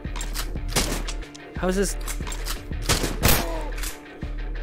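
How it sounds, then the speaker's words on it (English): Gunshots from a handgun in the VR game Stride, several sharp cracks spread across the clip over a steady electronic music bed, with someone talking between shots. "Oh yeah, I've got a gun! I forgot about the gun."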